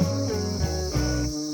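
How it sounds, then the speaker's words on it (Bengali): Crickets on a quiet road in Dawaipani near Darjeeling keep up a steady, high, continuous trill, joined by lower wavering tones. "কান পেতে শুনুন শুধু ঝিঝি পোকার ডাক"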